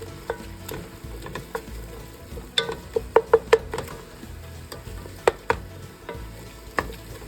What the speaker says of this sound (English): To this mirepoix, I'm going to add about 3 teaspoons of organic tomato paste. Stir that in.